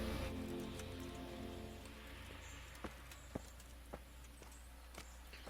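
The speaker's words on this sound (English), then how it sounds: "Luckily, you can ride your horse." In the medieval video game Kingdom Come: Deliverance, a horse's hooves clip-clop in a few sparse, fairly faint strikes about a second apart over a steady low ambient bed, with no talk.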